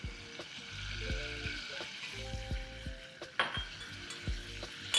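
Chicken skewers sizzle and fry steadily in a hot pan with soy sauce, with a constant hiss, occasional soft clinks of utensils and stirring scrapes; a few faint low tones sit underneath.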